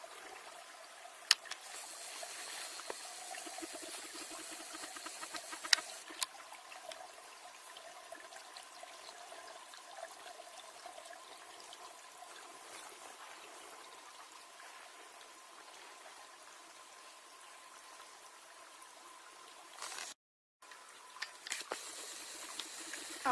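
A river flows past an abandoned coal mine, a steady, faint rushing hiss that runs on without a break, with a few small knocks and a short dropout near the end.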